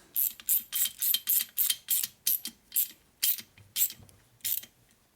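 A hand ratchet with a 1/2 inch socket tightens a part on a 1961 Harley-Davidson Sportster XLCH transmission, giving about a dozen quick clicking bursts in a steady back-and-forth rhythm, close and fairly quiet, with no talk.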